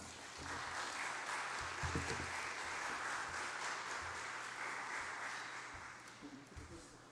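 A church congregation claps together to welcome a visiting missionary during a Sunday worship service, a steady wash of applause lasting several seconds with a voice speaking faintly beneath it.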